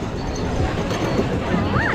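A roller coaster at Tokyo Disneyland climbs its lift hill with a steady mechanical rumble and clatter, mixed with crowd babble and park noise throughout.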